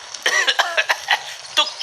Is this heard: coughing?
yes